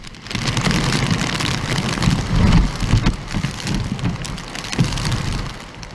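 Heavy rain pours and wind gusts roar during Typhoon Nida in Hong Kong's Western District, a loud, dense, continuous wash of storm noise.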